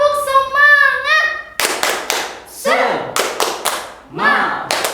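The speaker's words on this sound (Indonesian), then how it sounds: "Tepuk semangat." Children's rhythmic clapping chant at an online children's worship service, with sharp hand claps and thuds in a quick pattern mixed with chanted voices, following a sung opening phrase.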